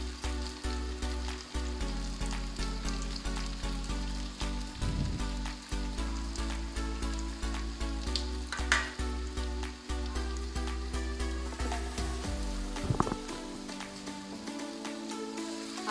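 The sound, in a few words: spices and green chillies frying in a pan for taro curry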